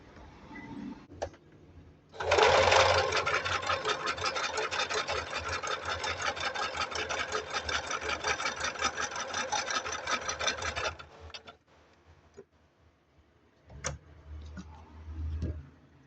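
Singer Advance sewing machine running a full-width zigzag stitch, a steady rapid mechanical whirring and ticking lasting about nine seconds, close and fairly loud, with quiet handling noises before and after.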